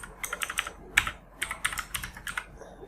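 Bangla conjunct letters are typed on a computer keyboard in quick clusters of key clicks separated by short pauses, close and distinct, with no voices.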